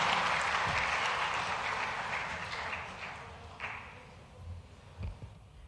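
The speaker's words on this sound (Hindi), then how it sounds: "पूरी भोपाल संभाग की जोरदार तालियां होना चाहिए माननीय मुख्यमंत्री जी के उद्बोधन के लिए।" An auditorium audience claps for the Chief Minister at a government public welfare event, a dense burst of applause that gradually thins and fades, leaving a few scattered claps and knocks near the end.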